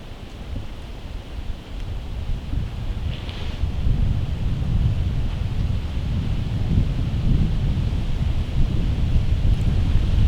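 Wind blows outdoors across an open draw on a morning deer hunt, buffeting the microphone with a low, continuous roar that strengthens after the first few seconds and stays steady and loud, with no talking.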